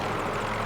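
A helicopter in Battlefield 2042 drones with a steady, loud rotor and engine roar that fills the whole moment without a break.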